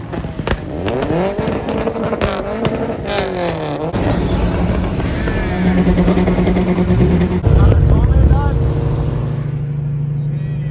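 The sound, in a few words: Toyota Corolla doing a two-step launch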